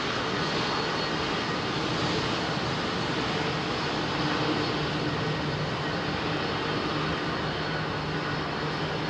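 Airbus A380 jet engines at full departure power on runway 27R at London Heathrow, a loud, steady broadband roar that stays constant and close throughout, with no talk over it.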